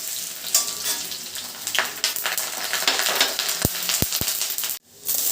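Garlic sizzling and frying in a hot steel pan, a steady bright crackle with a few sharp metallic clinks near the end and a brief dip before the sizzle resumes.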